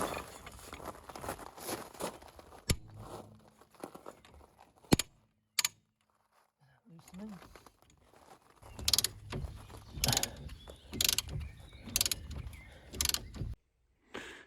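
A socket wrench ratchets on a knuckle bolt of a Hyundai Getz during a corroded dust shield replacement, a long run of close, rapid clicking bursts broken by short pauses and one louder clack.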